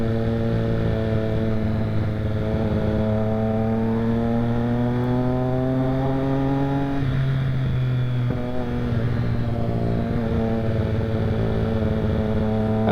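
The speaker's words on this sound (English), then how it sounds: "This bike so far has been a joy to ride." A Triumph Street Triple R motorcycle hums steadily while ridden, its engine tone climbing gradually, briefly easing, then holding an even drone under continuous road and wind noise.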